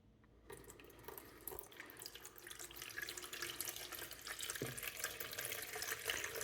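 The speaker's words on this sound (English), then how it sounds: "So let's pour this in and see how it goes." Half a litre of water poured through a Mr Funnel fuel filter funnel, a steady close trickling and splashing that starts abruptly and builds slightly as the flow continues.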